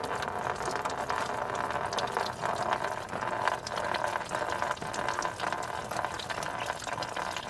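Coolant drains from the radiator of a 2001 Ford Ranger into a container, a steady trickling and splashing of liquid that runs on at moderate level with no talking.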